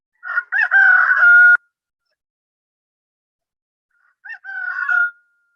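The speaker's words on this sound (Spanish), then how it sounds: "El gallo tiene sonido determinado, tiene notas musicales" A rooster crows twice, loud and close: a full crow lasting over a second, then after a long silence a shorter, fainter one, with nothing else heard.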